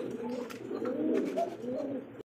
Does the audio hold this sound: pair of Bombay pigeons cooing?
yes